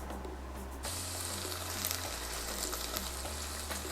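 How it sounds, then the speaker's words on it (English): Bacon sizzles and crackles in a pot, a steady, fairly quiet frying hiss with a low hum underneath and no voices. "we're going to take our bacon and we're going to add it to our pot"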